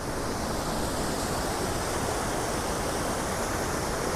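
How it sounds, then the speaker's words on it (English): Waterfall on the Sugar River, a dense, constant roar of rushing water, loud and close with no voices or breaks. "we have another waterfall here"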